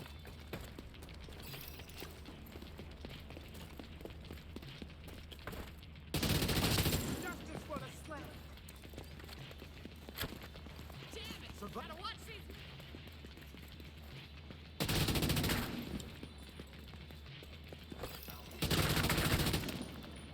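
AK rifle fire in The Division 2 game comes in three loud bursts of rapid automatic shots, each about a second long, set against quieter game ambience and someone talking.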